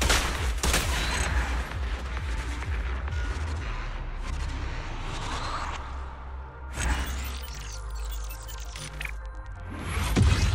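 Sustained gunfire rattles through a battle in Zenless Zone Zero, loud dense bursts of shots and impacts running almost continuously with brief shattering and mechanical clanks mixed in.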